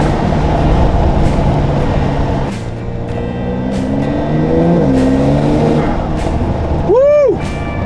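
A Porsche 911 Carrera 4 GTS cabriolet in Sport Plus mode pulls hard, its engine note climbing steadily in pitch and loudness, with a brief excited vocal whoop near the end.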